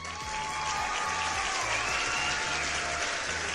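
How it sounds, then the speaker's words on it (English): A short burst of dense applause sounds, steady and fairly close, with a low rhythmic background thump running underneath throughout. "round of applause for you guys."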